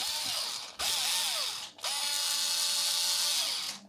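A Bosch IXO 3.6V cordless screwdriver whirs in three close bursts, its small motor whine sweeping upward as it spins up each time, with the last run held steady for about two seconds.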